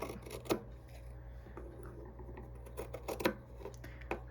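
Scissors snip through scrap ribbon being cut down for small craft bows, giving a few short, soft, close cuts spread over a quiet room with a low steady hum underneath.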